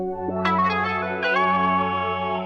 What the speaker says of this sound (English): Add some chorus to it.